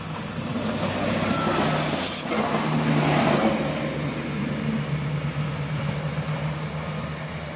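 A train rolls along a railway line through the Flöha valley, its low, even rumble swelling to a peak and slowly easing away, with no voices.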